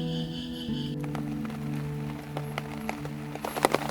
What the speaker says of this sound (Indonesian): tiba-tiba terjadi hujan deras ya hingga saat ini